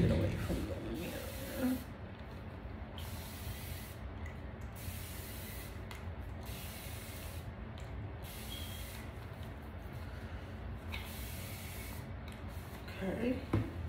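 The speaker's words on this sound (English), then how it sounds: "And you see the kind of spray bottle I got." A hand spray bottle misting water onto hair gives a series of short, sharp hissing bursts in a regular rhythm, fairly close.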